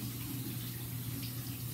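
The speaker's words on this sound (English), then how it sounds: "I turned on the hot water, because I like hot water." Hot water runs from a tap into a sink in a steady, close rush that continues briefly with no talk.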